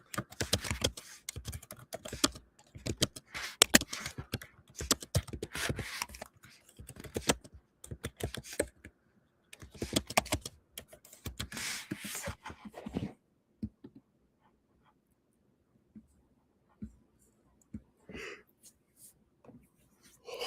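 Rapid clicking keystrokes on a computer keyboard, close and dry, in bursts of typing with brief pauses, then a long near-silent stretch broken by a few isolated key taps.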